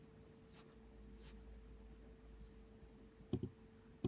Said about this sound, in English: Is my keyboard making a lot of noise?